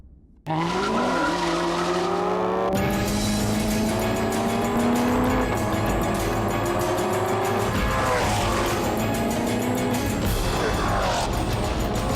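Maserati GranTurismo MC Stradale 4.2-litre V8 engine revving hard and loud, rising through gears with tire squeal and skidding, close and continuous with no talking.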